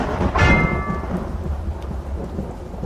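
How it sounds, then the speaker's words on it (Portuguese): Thunder rumbles loud and close at the start of a rainstorm, booming and then fading into a low roll under the steady hiss of heavy rain. "Assim que eu escutei o som de um trovão"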